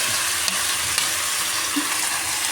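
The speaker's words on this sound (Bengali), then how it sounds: "মাছগুলো আমি ভাজা বসিয়ে দিলাম" Small fish frying in oil in a wok, a steady close broadband sizzle throughout with a couple of faint clicks, no talk.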